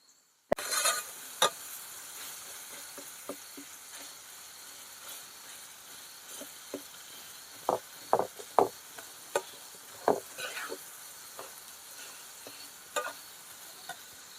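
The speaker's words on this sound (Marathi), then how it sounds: "नंतर टाकायची याच्यामध्ये चिरून घेतलेली फांजीची भाजी" Chopped wild fanji greens stir-fry in oil with a soft, low sizzle, broken by scattered scrapes and clicks of a spatula against the pan.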